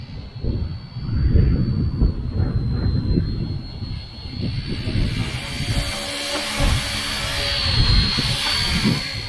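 A WLToys XKS K-Series Black Hawk-style RC helicopter flies in gusty wind, giving a steady high-pitched whine over heavy, irregular wind buffeting that rises and falls for several seconds.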